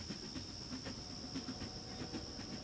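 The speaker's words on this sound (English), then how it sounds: "Chance listened for the distant hum before giving a signal that the train was near." An approaching train in a Western radio drama gives a faint, steady rumbling hiss with soft rhythmic clatter from a distance, with no voices.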